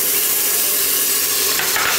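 Minced garlic sizzling in bacon grease in an Instant Pot, a loud, dense, continuous close-up frying hiss with no talking.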